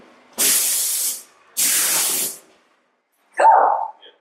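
An airless paint sprayer sprays paint in two sustained loud hissing bursts close by. A brief higher-pitched squeal follows after a pause.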